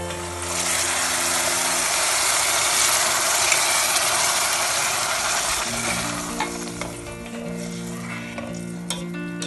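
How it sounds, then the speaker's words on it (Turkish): Cold meat broth is poured into rice pilaf sizzling in a pot while it is stirred, making a loud, steady hiss with scraping stir sounds that ease slightly toward the end. "Ve şimdi suyunu ilave ediyorum. Bu benim et suyum."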